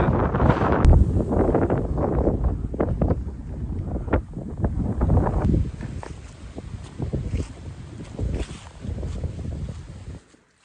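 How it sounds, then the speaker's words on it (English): Strong wind roars and buffets the microphone continuously on an Appalachian Trail hike near Carvers Gap, a loud rumbling gust that rises and falls with no voices. "Super windy"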